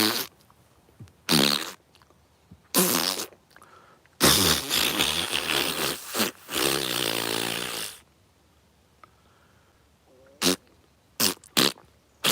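A man imitates farting with his mouth, blowing a series of wet, buzzing raspberries. Some are short pops and one is long and drawn out, separated by silences, close and loud.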